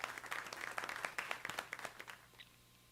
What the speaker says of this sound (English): It's the scattered clapping.